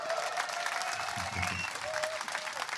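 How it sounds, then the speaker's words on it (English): An audience claps steadily and cheers at an interview event with Elon Musk, a dense, continuous wash of applause with a few brief shouts rising through it. "you have a whole bunch of people here just cheering"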